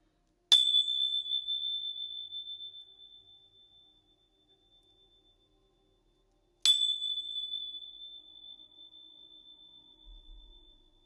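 Two separate strikes of a small bell ring out clearly and close, each one sustaining a pure high tone that slowly fades over several seconds. A short pause separates the two rings, and the surroundings are otherwise quiet.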